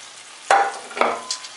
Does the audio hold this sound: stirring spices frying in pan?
yes